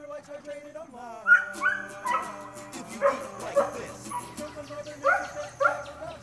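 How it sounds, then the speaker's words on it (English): Several dogs bark and yip repeatedly indoors, sharp excited bursts coming in irregular clusters, mixed with a few whimpering tones. "Oh gosh, dogs."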